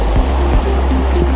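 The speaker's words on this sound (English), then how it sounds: "Got a waterfall." River water rushing over a small waterfall on the Neosho River, a loud, steady close-up wash with low churning, no talking.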